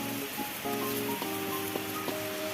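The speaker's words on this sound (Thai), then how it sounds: "ฝนตกหนักมากนะฮะที่ลำปางนะครับ" Heavy rain pours down in Lampang, Thailand, a dense steady hiss with scattered drops and splashes throughout, with no voices.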